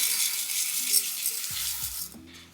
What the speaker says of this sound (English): you're gonna see it start to sizzle in the oil